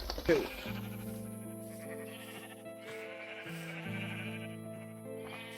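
A sheep bleats repeatedly in a video game over a steady electronic music bed, with a sharp click at the start; the bleats are close and fairly loud.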